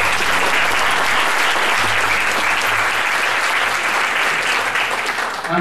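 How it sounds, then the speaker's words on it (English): Strong, continuous crowd applause at a chapter event, dense clapping holding steady close and loud for several seconds with only slight tapering at the end. "So Sabato, let's have a round of applause."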